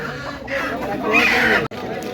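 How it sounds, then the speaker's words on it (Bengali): Native chickens clucking close by at a poultry market, a busy cluster of hen calls with faint voices and bustle in the background. "খাঁটি দেশি মুরগি"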